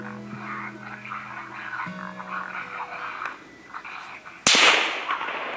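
A suppressed .22 Magnum rifle fires once at a raccoon during a night hunt, a single sharp crack cutting through a background of croaking frogs and outdoor night sounds.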